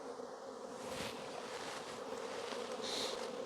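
Dense, continuous droning of a honeybee swarm around a hive, fairly faint and even throughout, with no voices.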